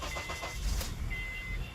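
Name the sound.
Honda Accord engine starting with a newly programmed key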